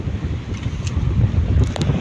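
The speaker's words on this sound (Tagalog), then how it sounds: "medyo lumakas po ang hangin" Strong, steady wind on a fishing boat buffets the microphone with a constant low roar throughout, along with faint creaks and splashy knocks nearby.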